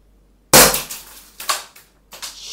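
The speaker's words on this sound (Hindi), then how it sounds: "चलिए अब इसको फायर करते हैं" A Umarex Walther PPK CO2 blowback air pistol fires one sharp, loud shot, followed by a couple of quieter cracking impacts, like a target being struck and shattering.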